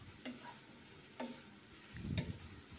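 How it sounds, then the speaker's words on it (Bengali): Yard-long beans and other vegetables stir-frying in a pan for vegetable egg noodles: a soft, steady sizzle broken by three clear spatula scrapes, the last one heavier and rumbling, with no talking. "কিছুক্ষণ এই দুই সবজিটা ভেজে নেব।"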